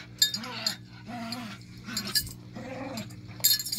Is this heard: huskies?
yes